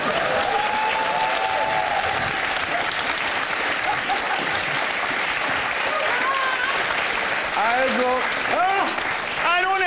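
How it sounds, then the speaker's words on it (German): Audience at an improv comedy show applauds steadily throughout, a continuous wash of clapping with voices talking and calling out over it. "Und wenn Sie dagegen sind, dann klatschen Sie bitte jetzt."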